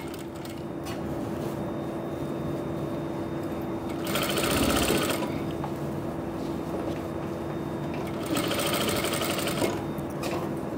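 A sewing machine stitches a sleeve seam with about a half-inch margin, its steady hum broken by two louder bursts of rapid stitching.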